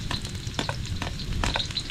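Garlic and chili stir-fry in a hot pan, a close, busy sizzle punctuated by several quick scraping stirs of the utensil, with no talking.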